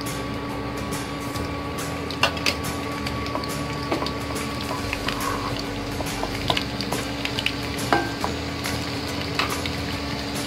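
Garlic frying in hot oil in a pan, with a steady soft sizzle and scattered small pops and crackles, close and moderate in level, no talk.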